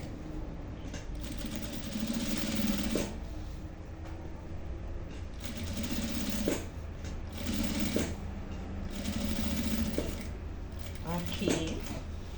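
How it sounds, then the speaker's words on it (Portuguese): A sewing machine stitches a zipper onto the panel of a box-style cosmetic bag, running in several steady whirring bursts separated by short pauses, close and moderately quiet, with someone talking softly between runs. "E vou passar a costurinha aqui na pontinha"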